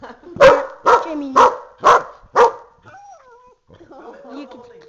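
A dog barks five times in a quick, loud, close series, then quieter whines and faint sounds follow.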